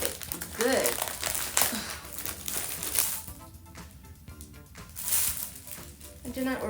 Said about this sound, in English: let's do a quick unboxing of my new corset and try on